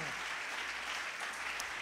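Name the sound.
congregation applause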